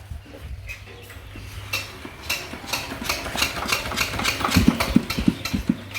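A Yanmar engine runs after valve work, a steady close mechanical idle with rhythmic knocking and clattering taps that build louder toward the end.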